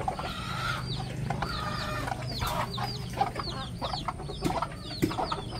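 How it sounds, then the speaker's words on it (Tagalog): Several native chickens cluck and call continuously close by, with occasional sharper squawks over a busy farmyard background. "maraming alagang native na manok"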